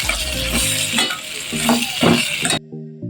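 Cauliflower sizzling and frying with a rohu fish head, steady hiss and crackle in the pan with scraping stirs throughout, then a sudden cut to quieter kitchen sound near the end, no voices.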